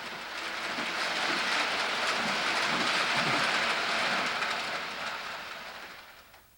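A Lionel model train runs through a holiday village display, giving a continuous whirring, rattling rumble that holds steady for several seconds and then fades out near the end.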